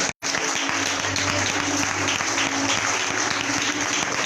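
A church conference congregation breaks into sustained applause and cheering, a dense continuous roar of clapping after a brief silence, with an underlying tonal hum throughout.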